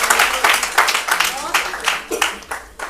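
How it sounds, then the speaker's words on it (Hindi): An audience at a legislative assembly poetry gathering applauds the poet Bhuvnesh Singhal, with steady, dense clapping running throughout while someone speaks over it. "जोरदार तालियां भुवनेश के लिए"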